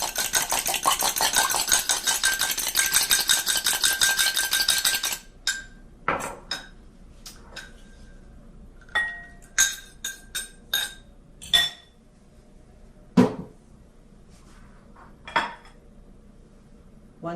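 Two eggs beaten in a bowl for blueberry muffins: about five seconds of rapid, rhythmic whisk clatter against the bowl, followed by scattered sharp clinks and taps of utensil on bowl, close and clear with no talk.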